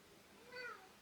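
A cat gives one short, faint meow partway through a quiet room, alone without talk.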